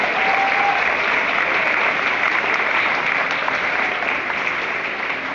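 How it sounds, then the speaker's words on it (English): An audience at a school assembly breaks into loud, dense, sustained applause that stays steady throughout, with no talking over it. "So let's give them a round of applause for that."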